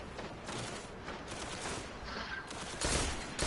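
Rapid volleys of weapon fire crackle in the Destiny video game during a raid, fairly faint and steady, with louder bursts swelling near the end.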